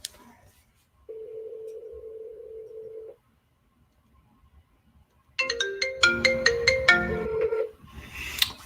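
Phone ringing during an outgoing call: a steady two-second electronic tone, a pause, then a quick run of bright chiming melodic ringtone notes, fairly faint and clear with no voices.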